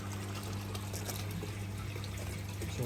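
Continuous soft pouring and trickling of water refilling a garden pond, low and steady with a faint constant hum underneath, no voices.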